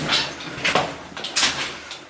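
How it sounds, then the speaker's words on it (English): Climbing rope gear creaks and clanks during a crawl through an old silver-boom mine, a few separate metallic knocks and scrapes, close and fairly loud. "All that creaking and clanking you hear is my rope gear."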